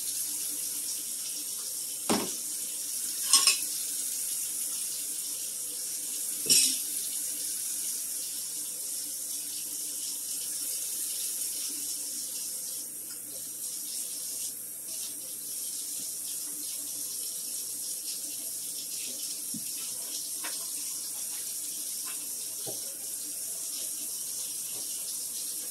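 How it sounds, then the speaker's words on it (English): A fork and spoon rack rinsed under a running kitchen tap, a steady hiss of water broken by a few clinks and knocks of the rack, no talking. "Wash my fork and spoon rack."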